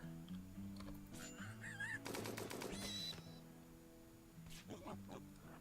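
Turrets fire in the video game Rimworld, a rapid burst of machine-gun shots lasting about a second amid scattered thuds and small effects, with a faint voice audible underneath.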